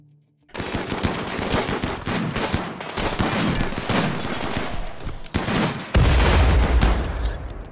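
Sustained gunfire rattles through a RimWorld raid, with dense bursts of shots and a heavy booming blast near the end as a turret explodes, loud and without talk.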